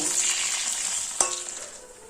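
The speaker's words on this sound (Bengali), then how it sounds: "পরের লটের মাছটাও আমি বেশ লাল করে ভেজে নিয়েছি এবার কড়াই থেকে তুলে নেব" Oil sizzles steadily as rohu fish fries deep red in a wok, with a single metal clink partway through and the hiss easing slightly toward the end.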